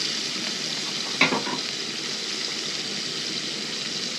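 Burgers and onions fry on a camp stove with a steady, broad sizzle throughout, broken once by a brief burst of clatter as ingredients go into the pan.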